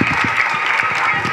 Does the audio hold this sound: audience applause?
yes